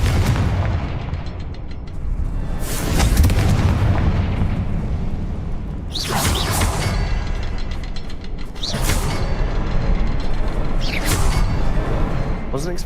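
Confringo fire spell bursts in the Hogwarts Legacy video game, several loud booming blasts in succession over a constant dense game soundscape, with music and effects filling the background.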